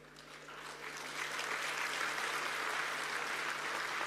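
An audience at a Govind Ballabh Pant agricultural and technology university ceremony claps steadily, a broad wash of applause that swells after a second and holds, with a faint electrical hum underneath.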